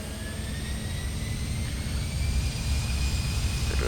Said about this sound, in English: Bit of reverse thrust noise there.